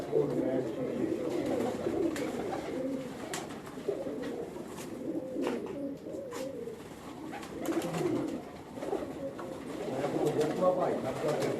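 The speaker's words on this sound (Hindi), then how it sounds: "चौधरी सखी मोहम्मद भट्टी साहब के कबूतर हैं।" A group of pigeons of modest, not very large build coo steadily in a loft, a continuous overlapping low burbling that stays close and even throughout.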